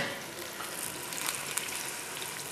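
Tomatoes cooking in a pot for Karachi-style biryani give off a soft, steady sizzle with a faint bubbling hiss that holds evenly throughout, with no voices.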